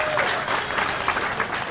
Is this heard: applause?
yes